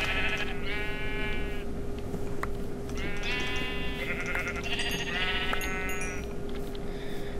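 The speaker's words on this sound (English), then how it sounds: "I guess I could kill the sheep for the meat." Sheep bleating in the video game Minecraft, several drawn-out wavering bleats in a row, fairly close and clear over a steady low hum, with no talking.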